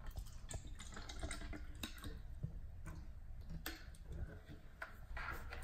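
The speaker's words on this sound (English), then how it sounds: "Let's pour some water in." Spring water from Armenia poured into a small test cup, a light continuous trickle with scattered drips and clinks, close and fairly quiet.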